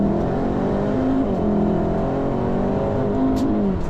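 A race car engine drones loudly and continuously during a trackday lap on the Nürburgring Nordschleife, its pitch rising and dipping slightly as it pulls through the gears, with heavy rumble and no voices.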